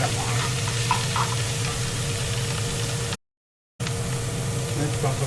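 Onions for a chanterelle sauce fry in a pan, a steady close sizzle with light stirring crackles and a faint background hum, broken by a brief cut of silence.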